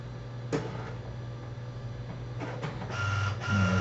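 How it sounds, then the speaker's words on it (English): A desktop office printer powers up after being switched on, giving a steady mechanical hum with clicks and ticking, then a louder whirring of rollers and motors toward the end. "I don't leave that printer on, so I had to turn it on."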